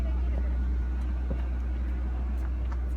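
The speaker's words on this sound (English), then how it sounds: "Here comes the train. They're bringing it back around, or at least the engine." A train engine being brought back around on a run-around track rumbles with a steady, loud low drone throughout, continuous and unbroken, with faint higher noises above it.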